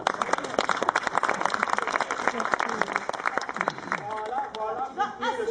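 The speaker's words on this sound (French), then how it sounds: "on peut l'applaudir" Audience applause for a participant called up during a Nuit de l'obscurité event in Mouscron, dense clapping mixed with crowd chatter, then fading into talk near the end.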